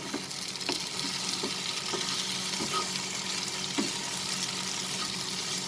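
A spoon stirs cooked spinach and potatoes with roasted cumin powder in a hot pan for aloo palak, soft sizzling broken by a few distinct clinks against the pan, with no voices.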